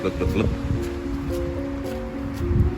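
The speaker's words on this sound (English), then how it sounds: "Oh yeah, even in a rainstorm." Rain falls steadily across a golf course during a rainstorm, a dense constant hiss with a low mechanical hum running underneath, and a voice murmurs faintly at times.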